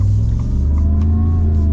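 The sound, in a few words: supercharged V8 of a 2025 Ford F-150 Black Widow revving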